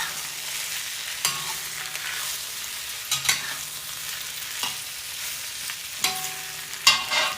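Food sizzles steadily in a cast iron wok while a utensil stirs and scrapes it around, with several sharp metallic clacks against the pan.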